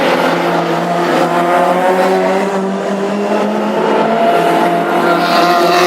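Classic hot rod race cars roar around the oval at Birmingham during a Second City Stakes final, a loud, sustained engine drone with layered revving harmonics and a faint tire squeal, heard alone without talk.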